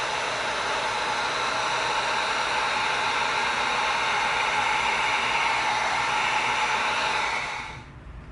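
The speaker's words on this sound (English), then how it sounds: "Let's heat seal it now," A heat gun blows hot air over EVA foam to heat-seal it, a steady loud rushing whoosh close by that holds level for several seconds before cutting off.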